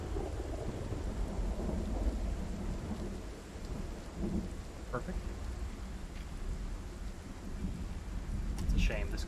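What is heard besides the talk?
rain and thunder in a video game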